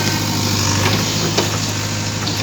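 Sonalika JCB backhoe engine idling close by, a steady low diesel hum with a constant drone and no change in pace, with no talk over it.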